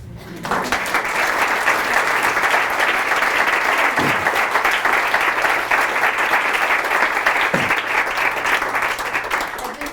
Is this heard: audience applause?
yes